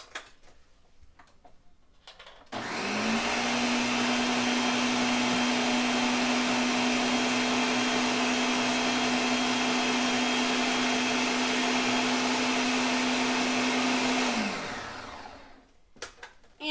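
Blender mixing coquito, Puerto Rican eggnog, after alcohol is added: a steady loud motor whir starting abruptly, running about twelve seconds, then winding down, with quiet handling noises before and after.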